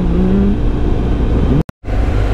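A motorcycle on a quiet rural road, its engine droning loud and close with a rising pitch as it speeds up, then cut off briefly before the engine sound returns.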